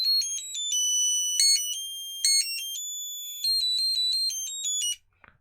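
Geekcreit rotating RGB Christmas tree toy blaring a loud, shrill electronic melody of beeping tones, continuous for about five seconds before cutting off abruptly with a faint click.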